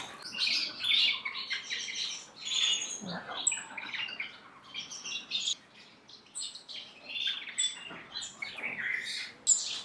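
Several parrot finches chirp and tweet in a cage holding mixed varieties together, with busy overlapping high calls and squawks running steadily throughout, fairly close.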